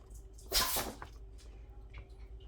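A single sharp sneeze bursts out at moderate distance, followed by quiet room noise.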